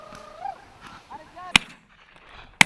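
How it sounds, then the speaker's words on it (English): Two sharp, loud shotgun blasts about a second apart ring out at a driven pheasant shoot, following a stretch of people calling out in the field. "The guns are doing their job too, with some good shooting that sees the bags swell at a rate."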